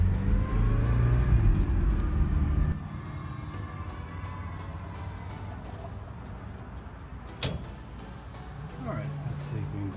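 A Porsche 924/944 drives around a corner, its engine loud and close at first, then settling into a lower steady run with a brief knock partway through.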